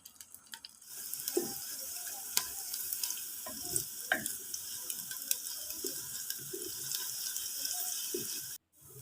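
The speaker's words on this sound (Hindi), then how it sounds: "जब ऑयल गर्म हो गया तो चॉप्ड प्याज को डालकर लाइट ब्राउन होने देते हैं।" Chopped onions frying in about three-quarters of a cup of hot cooking oil in a pot, a steady close sizzle with scattered stirring clicks and scrapes throughout, then an abrupt cutoff near the end.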